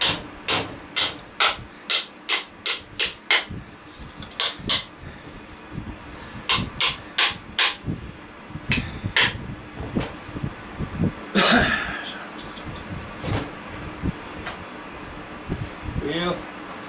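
A 16-ounce hammer strikes metal repeatedly while an electric blower is scrapped, sharp clanking blows in quick bursts with pauses between, close and loud, with someone talking at times.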